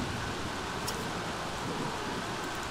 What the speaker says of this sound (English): And it is raining, of course.